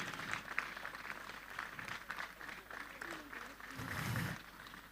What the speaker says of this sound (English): Please keep clapping until she gets here.